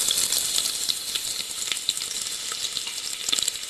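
Sliced onion sautéing in a pan with bay leaf, a close, continuous crackling sizzle with small pops and stirring, no voices.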